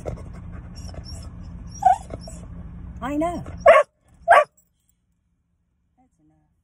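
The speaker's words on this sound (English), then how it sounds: "He can do all that barking." A Blue Heeler whines in high, drawn-out cries, then lets out a couple of sharp barks close by; a person speaks briefly before silence.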